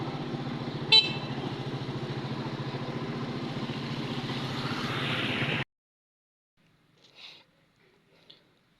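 A motorcycle engine runs steadily through deep water on a flooded road, loud and close for about five seconds with a brief horn-like blip near the start, then cutting off to near silence with faint distant sounds.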